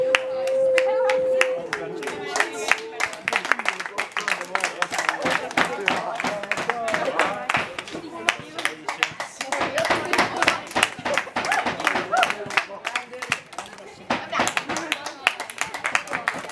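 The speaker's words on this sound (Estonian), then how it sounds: "Mõni aplaus eelmisele?" Audience clapping at a project award ceremony, a sustained patter of many hands in a room that runs throughout, with a speaker talking over it in places.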